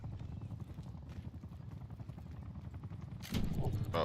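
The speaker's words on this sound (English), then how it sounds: "Wait, is that their helicopter?" The enemy watchdog helicopter in Call of Duty Black Ops 6 thuds with a rapid rotor chop under game noise, followed by a loud burst near the end.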